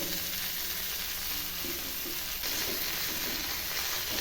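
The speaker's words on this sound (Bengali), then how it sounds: "আর দিচ্ছি ধুয়ে রাখা পালং শাকগুলো।" Washed spinach and fried bori cook in a pan with an even, hissing sizzle that holds steady throughout, with a faint rise partway through.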